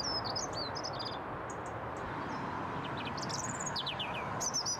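An urban songbird sings in short whistled phrases and chirps over a constant low hum of morning city traffic, the song clear but moderately distant.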